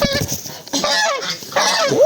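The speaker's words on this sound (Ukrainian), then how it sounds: "То гусак взагалі-то чубатий." A crested gander lets out several loud, close honks in quick succession, raspy and rising in pitch toward the end.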